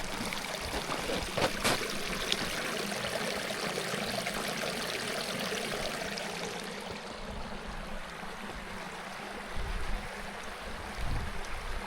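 Water from a culvert pours steadily into a creek, a continuous broadband rushing and gurgling that stays loud and close throughout with no voices.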